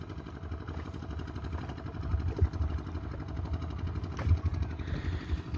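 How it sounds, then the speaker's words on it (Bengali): A trawler boat's engine chugs on a seasonal wetland, a steady low rumbling drone with faint clattering, fairly quiet and continuous as it approaches. "এদিকে একটি ট্রলার আসছে দেখা যায়।"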